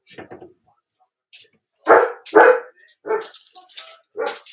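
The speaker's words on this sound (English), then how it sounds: "These bloody dogs." Dogs bark in a few short, fairly close bursts, with a quick double yip near the start and louder barks through the middle and end, mixed with gaps of quiet.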